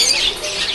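Small caged birds in a Mumbai market flap and squawk in a brief, busy burst of rustling wings and harsh calls, close by.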